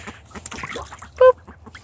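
Pet ducks by water give one short, loud nasal quack amid soft splashing and rustling, close by, with no talk over it.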